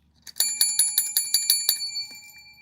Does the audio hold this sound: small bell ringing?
yes